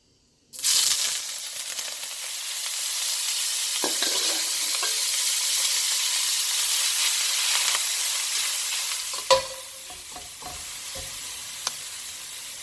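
Beef strips hit hot oil in a smoking wok and burst into a loud, steady sizzle that hisses on for many seconds, with a few scraping stirs and clicks near the end.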